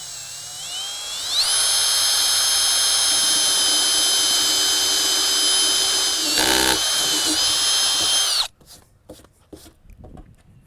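Power drill bores steadily through the wall of a plastic rain barrel near its bottom, a loud sustained high whine lasting several seconds with a brief dip midway, then cutting off to leave quiet rustling.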